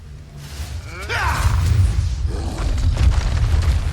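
An Expulso blasting curse in the Hogwarts Legacy video game erupts as a loud, close boom with a swelling whoosh that rumbles and lingers for several seconds.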